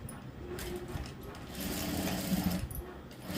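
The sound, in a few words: sewing machine stitching a blouse neck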